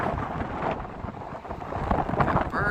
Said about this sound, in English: But a little too windy to fly down here.